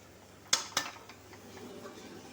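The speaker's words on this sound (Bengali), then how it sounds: "এভাবে নেড়ে নিচ্ছি, ভালো করে নাড়াচাড়া করে এটাকে ঢেকে দেবো।" A utensil scrapes and clinks against a cooking pan while washed red amaranth greens are stirred, two sharp metallic knocks followed by softer rustling and faint sizzle, close up, with no talking.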